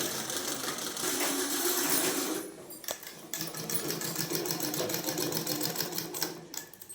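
A sewing machine stitching fabric during a cutting and stitching class, its rapid mechanical needle chatter running in bursts with a brief pause near the middle, fairly quiet and close with no voices.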